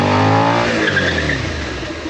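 A Suzuki SV650 motorcycle brakes hard with ABS, its engine tone dropping steadily as it slows, with a scrubbing tire and brake noise that fades as the bike nears a stop.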